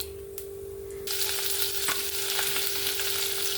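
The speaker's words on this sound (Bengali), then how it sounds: "এবার পেঁয়াজটা খালি ভেজে নেব" Chopped onion dropped into hot oil tempered with whole cumin bursts into a loud, steady sizzle that swells abruptly partway through and stays close and continuous, with no voices.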